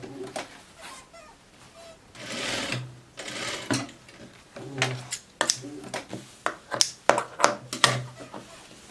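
Sewing machine stitching and finishing a coat in short bursts of rapid needle rattle, broken by pauses and small handling clicks, close and moderately quiet.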